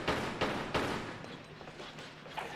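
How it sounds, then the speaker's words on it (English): Gunfire in Tomb Raider: The Last Revelation: three sharp, fairly quiet shots in quick succession at the start, then fainter scattered pops trailing off. "Okay, I need to stop shooting things with my good bullets."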